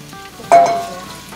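Water poured into radish frying in perilla oil sets off a sudden loud sizzle close by that holds and gradually eases, with no talking.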